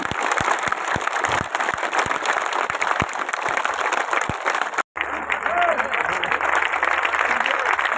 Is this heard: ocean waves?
no